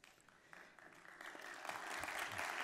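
An audience applauds at a talk, the clapping starting softly and swelling into a steady, dense patter of many hands that keeps building to the end.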